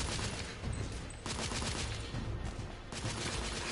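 Rifle gunfire in the video game The Order: 1886 comes as dense, rolling bursts of loud shots, with heavy volleys pausing briefly and then resuming amid a noisy battle backdrop.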